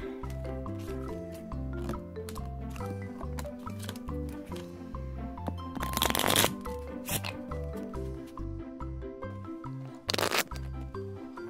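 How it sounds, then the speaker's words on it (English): A deck of playing cards for a children's slap card game being shuffled, with riffling bursts of papery rustling heard under loud, bouncy background music. "let's shuffle up our cards"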